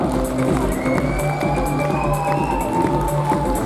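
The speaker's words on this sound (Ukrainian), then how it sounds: "Гучніші оплески учасникам." An audience applauds child performers at an awards ceremony: steady, dense crowd clapping and noise that fills the clip at a fairly loud level, with some tonal sound mixed underneath.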